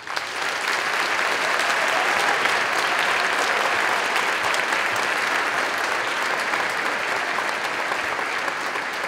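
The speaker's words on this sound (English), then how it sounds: "Let's give them a round of applause." Audience applause at a school district arts festival evening honoring art teachers, a dense, steady wash of many hands clapping that stays loud and even for about nine seconds, with no speech over it.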